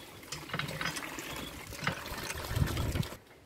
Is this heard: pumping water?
yes